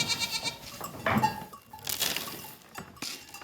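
Goats bleating on a mountain goat farm in an isolated valley, several close calls coming in uneven bursts with a faint clink of metal or glass in between.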